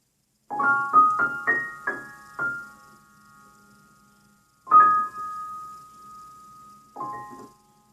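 Single piano notes are played one after another in a short, uneven phrase, each ringing briefly, with pauses and a few isolated notes near the end.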